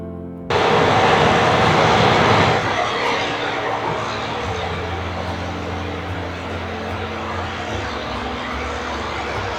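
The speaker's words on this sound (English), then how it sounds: "And the plane is up in the air." Airplane engine roaring as a plane takes off near Juneau, loud and sustained, fading slowly into a steady rumble, with faint crowd noise from people watching nearby.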